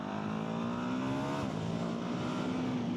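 A Ducati Hypermotard V2 motorcycle engine dropping into first gear, a steady close engine drone with rising and falling tones and a brief pitch shift midway, no talk.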